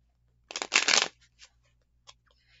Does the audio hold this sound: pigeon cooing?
no